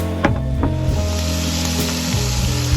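Beef and mushrooms browning in a hot pan for a stroganoff, a loud, continuous close sizzle with a few soft scraping stirs.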